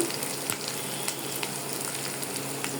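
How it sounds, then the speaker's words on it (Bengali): Sliced onions fry lightly in oil in a pan, giving a steady close sizzle with scattered sharp crackles and no talking. "পেঁয়াজগুলোকে এখন হালকা ভাজা দেব।"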